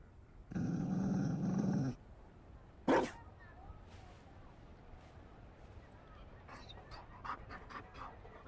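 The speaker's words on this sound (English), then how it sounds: "You found a dog?" A Mabari war dog in Dragon Age: Inquisition, with a short burst of breathy panting, one sharp noise, then quieter snuffling and small sounds over a low background.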